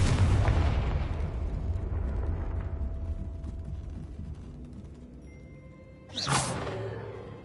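A Confringo fire-blast spell goes off in Hogwarts Legacy on PS5 with a loud rumbling explosion that slowly fades. Near the end a second sharp, whooshing burst flares up briefly before dying away.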